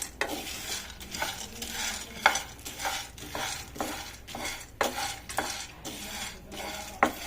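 Dry fruits and sunflower seeds roasting in a pan while being stirred, a steady dry crackle and sizzle broken by repeated scraping sweeps of a spoon against the metal, close and fairly loud, with no talk.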